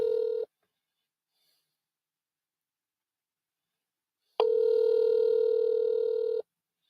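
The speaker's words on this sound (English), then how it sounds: "See if the phone rings." Telephone ringback tone: a brief tail of one ring, about four seconds of silence, then a full two-second ring, clean and close with no talking.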